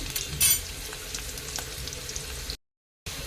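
Ginger, onion, green chilli and cumin fry in a hot pan with a steady, close sizzle and faint stirring. The sizzle cuts out briefly near the end, then comes back.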